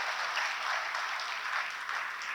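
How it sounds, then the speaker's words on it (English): Soft, continuous applause from a crowd at a celebration event sounds distant and fairly faint, an even wash of clapping without breaks. "Shall I have a good round of applause to her?"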